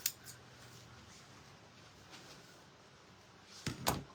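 Scissors snip through paper while Valentine's Day decorations are made: a few faint, scattered cuts early on, a quiet stretch, then two louder, sharper snips close together near the end, with no talking.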